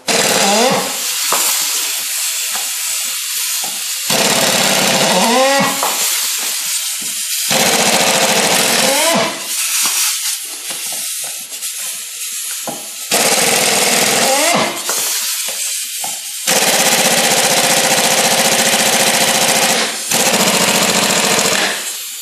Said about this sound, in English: my lug wrench, my air wrench didn't have enough guts to break loose that one